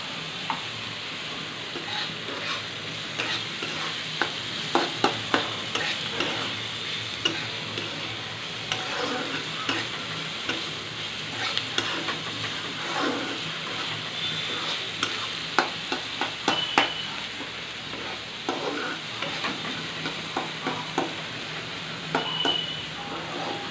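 Food sizzles steadily in a pan for a South Indian tiffin, with frequent scraping stirs and light clicks of a utensil against the pan over the constant frying hiss.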